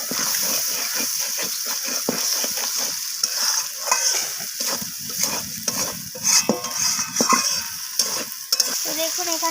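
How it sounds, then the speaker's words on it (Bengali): Vegetables (pumpkin and eggplant) and spices for a rohu fish curry fry in oil in a pan, a dense crackling sizzle broken by repeated close scrapes and clinks of a spatula stirring steadily, with no voices. "সেইভাবে এখানে কষিয়ে নিতে হবে"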